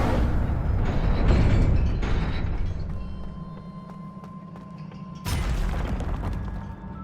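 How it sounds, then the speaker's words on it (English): An Incendio fire spell is cast in Hogwarts Legacy, giving a deep rumbling burst that fades into a low hum, then a second sudden whooshing flare of fire near the end. "Incendio."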